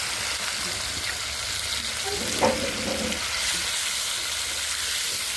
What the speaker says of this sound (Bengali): এই যে কচু ভেজে নিচ্ছি।